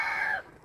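A single hen's short, loud call rises and fades within a moment outdoors on a backyard flock, with no voices around it.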